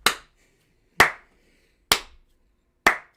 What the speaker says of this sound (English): slow clap for Mr.